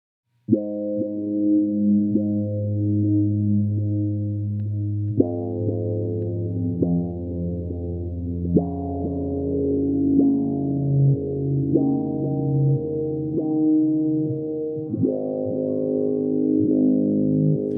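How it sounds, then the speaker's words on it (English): An electric bass plays slow, sustained notes through a Recovery Effects Phantom Operator and an Old Blood Noise Endeavors Dark Star, each note swelling with chorus and echo into a smooth, layered tone. "That sounds so good. That's a Recovery Effects Phantom Operator, a Old Blood Noise Endeavors Dark Star"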